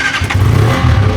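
An auto rickshaw engine cranks and catches, a short burst of mid-pitched motor noise that rises into a steady running note, close by and on its own.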